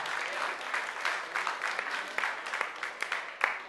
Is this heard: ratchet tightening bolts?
no